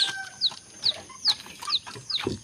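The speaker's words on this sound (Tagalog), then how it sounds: "magpapakain muna tayo sa ating mga broodhen" Brood hens cluck steadily while being fed, a close series of short rhythmic clucks about every half second with soft background movement and no talking.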